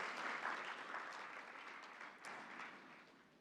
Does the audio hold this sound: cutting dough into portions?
no